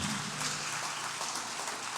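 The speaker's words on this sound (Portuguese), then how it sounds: "Dá um aplauso aí, no mínimo" A church congregation applauds together during a sermon, a steady wash of clapping from many hands filling the room at moderate loudness.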